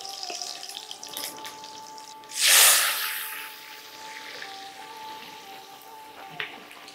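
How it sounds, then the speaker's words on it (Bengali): Boiled lentils are poured into a pan of tempered fenugreek and mustard seeds, making one loud, close splashing whoosh that hisses briefly and then settles into a quieter simmer. "এবার এতে ঢেলে দিন আগে থেকে সেদ্ধ করে রাখা ডাল"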